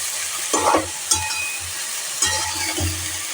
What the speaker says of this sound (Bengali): সব কিছু একসঙ্গে দিয়ে একদম লো ফ্লেম করে এটাকে রান্না করব।